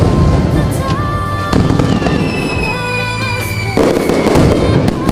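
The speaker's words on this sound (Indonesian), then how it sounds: "Petasan pun diledakkan di kota Chang'an. Kembang api di mana-mana." New Year fireworks and firecrackers explode across a city in continuous crackling bursts and whistling rockets, loud and busy throughout.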